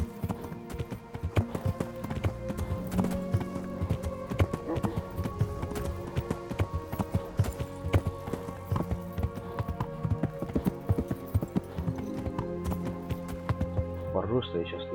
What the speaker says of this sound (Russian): Эта лошадь об каждую кочку может запнуться.